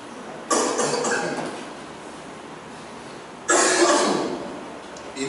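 A person recovering from flu coughs twice, each a close, loud burst of several rough hacks that trails off, with a quiet pause between the two fits.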